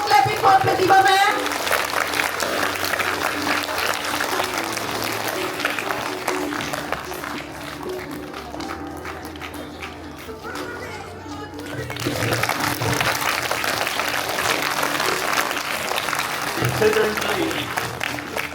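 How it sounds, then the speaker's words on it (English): A school ceremony crowd claps loudly for a teacher called to the stage for a prize, a dense sustained round of applause that dips briefly midway and then swells again, with music and chatter mixed in. "Clap loudly for your teacher."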